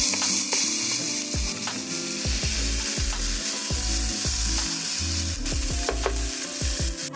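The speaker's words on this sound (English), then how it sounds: "we're going to add in our minced garlic. We're going to saute that for 1 minute" Minced garlic sauteing in a pot for one-pot ground beef and rice, a continuous close sizzle broken by frequent scraping knocks of a spoon stirring, with no talking.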